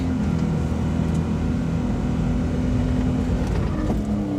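A Suzuki Carry mini truck fitted with tracks labours up a steep snowy hill in first gear, low range, its engine droning steadily and loudly close by as the tracks spin out and it gets stuck.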